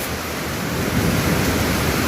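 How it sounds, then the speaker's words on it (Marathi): Heavy rain driven by strong wind blows into a restaurant and soaks the curtains, making a loud, continuous broadband roar of rain and gusting wind that fills the whole stretch without any voices. "याला वारं जास्त असल्यामुळं पाऊस आतमध्ये येतो आहे तिथं"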